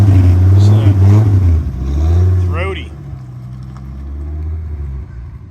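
A Z06 sports car's throaty exhaust revs as it pulls away, a low engine rumble running under loud nearby talk and then fading as the car leaves.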